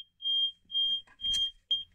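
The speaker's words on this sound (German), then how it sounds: "Das war die Alarmanlage." A car alarm system, apparently on a Tesla Model S, gives four short, high-pitched electronic beeps in an even rhythm, loud and close in an otherwise quiet space.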